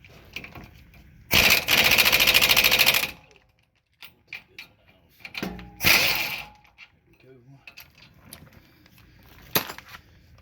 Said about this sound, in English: Just as long as my compressor's doing what it's supposed to do.